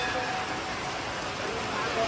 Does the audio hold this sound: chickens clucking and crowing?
no